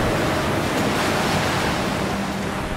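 Ocean waves and wind at sea around a boat, heard as a steady, loud broadband wash with continuous surf and wind noise buffeting the microphone, no voices.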